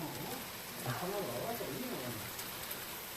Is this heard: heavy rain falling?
yes